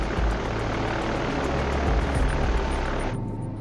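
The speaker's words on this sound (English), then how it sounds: "the crew of a B-29 named Enola Gay, after the Captain Paul Tippett's mother, takes off from their airbase in Tinian in the northern Mariana Islands" A B-29 Superfortress bomber's propeller engines roar in a loud, steady drone as it takes off from an airbase on Tinian in the northern Mariana Islands, sustained throughout before cutting off abruptly near the end.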